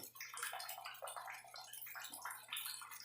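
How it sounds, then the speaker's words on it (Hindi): Water rushes fast and steady through a Kent RO water purifier after its TDS adjuster is turned up, a close, hissing splashing flow with a faint low hum underneath. "ये देखिए पानी का फ्लो काफ़ी तेज़ हो गया"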